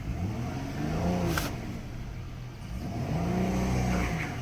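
A car with a bad transmission gives off a whining noise that rises and falls with engine revs over a steady road rumble, heard from inside the car. The whine comes in two swells.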